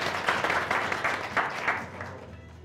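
A studio audience at a televised political debate show applauds in a moderate wash of clapping that swells and fades over a few seconds, fairly close, with no clear speech.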